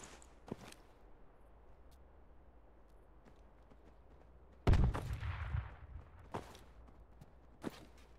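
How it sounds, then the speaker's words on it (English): Sparse M4 rifle shots in a video game, a faint crack early, then one loud nearby burst with a rumbling tail, followed by a couple of quieter distant pops over a low hiss. "I heard some M4s shooting."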